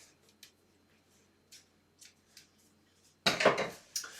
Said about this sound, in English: Just cut these threads.